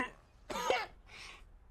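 A man coughs in two quick, harsh bursts, close and fairly loud, with a short breath just before them.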